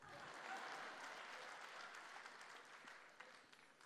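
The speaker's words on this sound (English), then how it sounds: "You can applaud for that one." An audience claps steadily, a dense wash of applause that fades slightly toward the end, heard from a distance.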